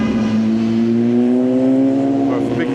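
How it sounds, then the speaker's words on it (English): A motorbike engine hums steadily nearby at My An Beach in Da Nang, Vietnam, its low droning pitch rising slightly over a few seconds. "We have big motorbikes over there"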